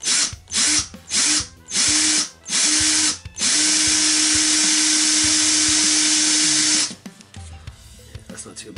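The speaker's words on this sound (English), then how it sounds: "get a hole drilled in here for the dowel" A power drill bores a hole in a plastic cosplay blaster prop for a dowel, starting with several short whirring bursts, then one sustained loud run before stopping. Workshop clatter follows.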